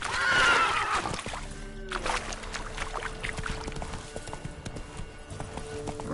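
The horse Roach gallops in a video game with rapid rhythmic hoofbeats and a loud neigh at the start, heard close over game ambience with brief bursts of talk.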